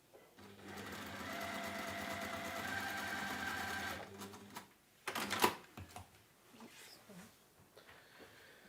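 A sewing machine stitches textile in a steady, loud run for about four seconds, then stops; afterward come softer fabric handling and light clicks.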